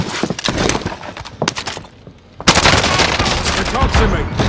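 Gunfire in a shooter video game: dense, loud bursts of rapid shots, with a brief lull in the middle before the firing resumes heavier and continues to the end.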